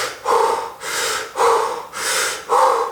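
Wim Hof style breathing, deep rapid breaths drawn close to the mic: five forceful, airy inhale-exhale surges in a steady rhythm, each separated by a brief lull.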